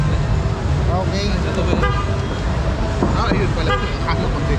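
Vehicle horns toot at a bike stand during a racing bike festival and trade show in a busy convention hall: several short, bright honks cut through a dense crowd murmur of nearby voices.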